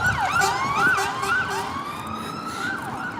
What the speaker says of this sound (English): That's the fire engine, guys.